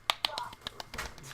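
Sharp, dry gunshot effects from a game come as a few quick snapping pops, more like claps or finger snaps than shots, soft and close with faint voices underneath.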